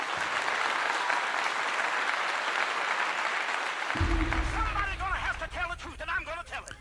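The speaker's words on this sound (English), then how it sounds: "I give you a clap." Applause in the middle distance, a crowd-like clapping wash rather than one clear pair of hands, continuing steadily while a voice starts talking over it in the second half along with a low hum.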